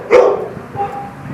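A young female hunting dog at an animal shelter lets out a single sharp bark close by, followed by a softer trailing yelp, then quiet.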